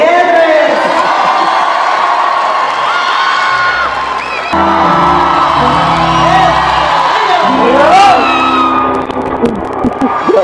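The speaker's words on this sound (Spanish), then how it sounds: "En el aplauso para Enrique Gutiérrez." Concert crowd cheering, whooping and applauding loudly for a singer at a show in Pachuca, a dense sustained roar with shouts rising above it.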